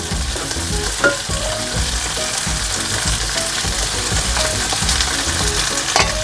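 Eggplant and tomatoes frying in a pan while being mixed, a loud, continuous sizzle close up with occasional sharp utensil knocks against the pan and no voices.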